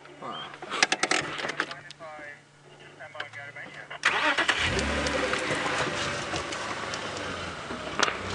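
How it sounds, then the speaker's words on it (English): A safari vehicle's engine cranks and turns over, then settles into a loud, steady rumbling idle, with quieter clicks, rustles and faint voices before it starts. "Okay, Gendre, I'll move the car for you."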